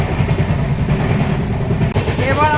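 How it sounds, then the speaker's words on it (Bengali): Rupasi Bangla Express running fast near Uluberia, a steady loud rail rumble with a brief dip and some higher squealing tones toward the end, voices heard over it. "লাগাতার ট্রেন বেশ ভালো স্পিডে ছুটে চলেছে"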